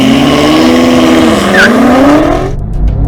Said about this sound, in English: they did a drag race as you do.